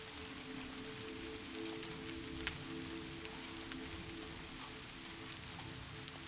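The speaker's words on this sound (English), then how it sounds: "The rain continues to fall, not heavily, just enough to soften every sound around you." Gentle, steady rain falls in a forest, a soft even patter on leaves and surfaces with no voices, holding at a constant low level with a few faint drops standing out.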